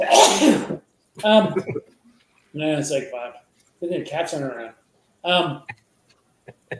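A sharp, loud sneeze up close, followed by several bursts of conversation with pauses between them.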